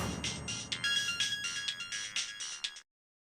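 A phone ringtone plays a repeating electronic melody of bright, quick tones for nearly three seconds, then cuts off abruptly into silence.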